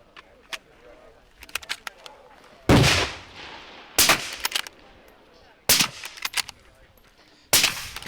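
Rifle shots ring out at a timed shooting competition, four loud sharp cracks spaced about a second or more apart, each with a short echoing tail, over faint background noise.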